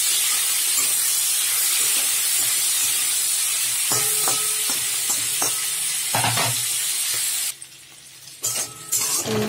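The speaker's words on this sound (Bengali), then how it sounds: "চিংড়ি মাছটা ভেজে নেবো।" Salted, turmeric-rubbed shrimp fry in hot oil in a wok, a loud, dense sizzle and hiss with a few clanking stirs and scrapes, briefly dropping off near the end before crackling again.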